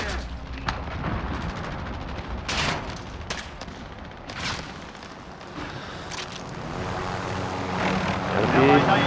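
In a 32v32 Ground War battle in the video game Modern Warfare, a helicopter's rotor and engine roar blend with loud bursts of gunfire and explosions. A player talks over the din.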